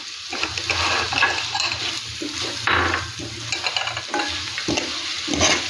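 Mussels and green chillies saute in a pan in a Kerala-style mussel fry, a continuous close sizzle with repeated scraping stirs and clinks against the pan.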